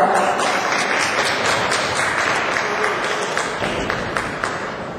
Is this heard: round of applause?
yes